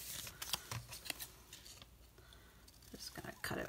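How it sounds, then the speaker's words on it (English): Scissors snip a small piece of Happy Planner paper in a few quiet, uneven cuts, with light paper rustling and handling noises in between. "Just going to cut it with my scissors"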